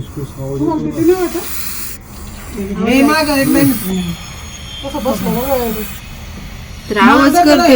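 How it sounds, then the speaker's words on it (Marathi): A baby Russell's viper hisses in short bursts from under an onion crate, between stretches of close, loud talking, the hiss fading in and out as people speak. "एवढं छोटस पिल्लू आहे ते विषारी सापाचं आवाज करते बघा करते"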